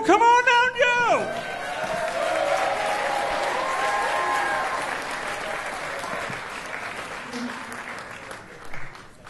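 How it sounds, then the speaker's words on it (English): A comedy club audience at the Improv breaks into loud, sustained applause after a brief spoken introduction, the clapping holding steady before slowly thinning out. "Big round of applause for"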